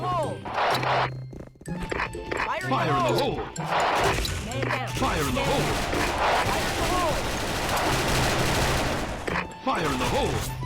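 Heavy gunfire rattles in the Special Force shooter during bomb mode with a G36C rifle, loud near-continuous volleys and crashes while people talk excitedly over it.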